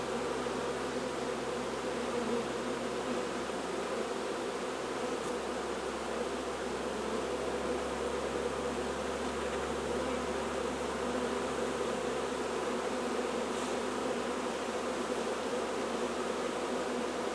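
Stressed honeybees in a nuc hive fill the air with a dense, continuous buzzing drone, steady and close throughout, with no voices.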